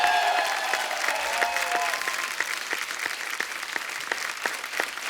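Studio audience at a Hindi comedy talk show breaks into steady, sustained applause, moderately loud and continuous with rhythmic claps throughout.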